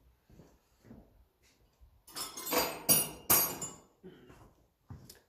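A riveted part on a Lucas dynamo from a 1954 Ferguson 20 TEF diesel tractor is tapped out with sharp metallic taps, first soft and scattered, then a few louder ringing blows close together before quieter knocks.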